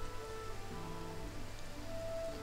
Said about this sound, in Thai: ตอนเข้าเกมมานี่ฝนยังไม่ตกว่าเริ่มอัดคลิปปุ๊บตกเลยครับ